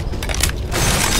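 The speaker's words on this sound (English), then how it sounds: "I'm reloading!" Weapon reloading in Left 4 Dead 2: a short burst of clicking, ratcheting gun mechanisms over a dense bed of game noise and distant gunfire.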